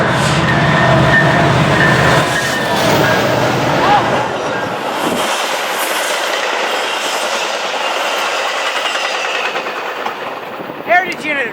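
A brand-new Metra commuter train, a heritage-unit locomotive, pulls into a Chicago station with a loud, steady rumble of wheels and cars that eases off before a short tonal burst near the end.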